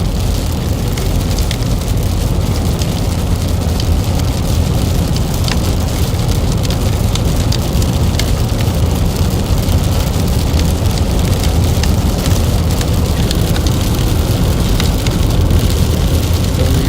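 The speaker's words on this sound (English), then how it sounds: "Definitely got a strong storm here" Heavy rain from a strong supercell thunderstorm in South Dakota pours down in a dense, steady roar that never lets up, loud and close throughout, with no distinct thunderclaps standing out.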